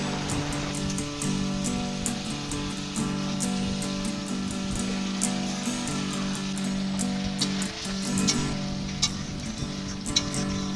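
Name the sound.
magur fish curry boiling in a pot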